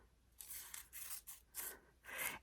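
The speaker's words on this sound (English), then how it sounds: "So I'm going to cut my side pieces here all the way down." Scissors snipping through paper while side pieces are cut for a paper pine sprig fringe, five close, crisp cutting strokes in an uneven rhythm, each a short rasping swish.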